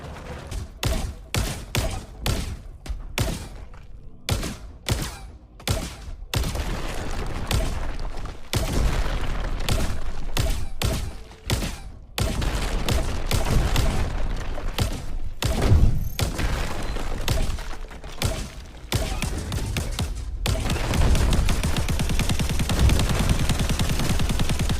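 Rapid bursts of gunfire in Crackdown 3 pound a destructible wall, loud and close, with dense thumping impacts and short gaps between volleys, then a long continuous stretch of shots near the end.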